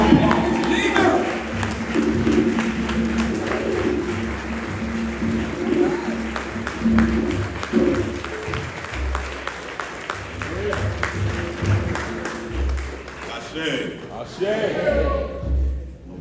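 Audience applause at a Malcolm X birthday celebration at the Shabazz Center, a steady moderate clapping that carries on beneath a voice speaking over a microphone and fades out near the end.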